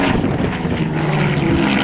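A vintage propeller airplane at an air show, its engine droning loud and steady overhead with a continuous buzzing hum and no voices over it.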